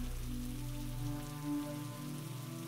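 Rain falls steadily and evenly, a soft continuous patter with low droning tones underneath, calm and moderately faint with no voices.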